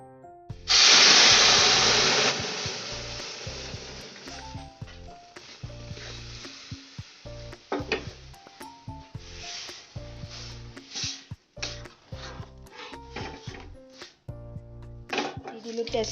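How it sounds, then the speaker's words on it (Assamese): Dal is tempered in hot oil, opening with a loud burst of sizzle and hiss that settles into softer crackling and stirring, while a voice talks over it. "এতিয়া দালিখিনি তেল মাৰিম"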